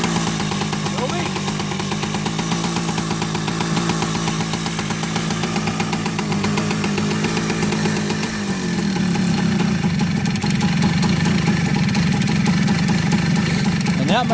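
Kawasaki KE100 motorcycle engine idling low and steady, a continuous near putter that shifts slightly in pitch partway through, with no one talking over it.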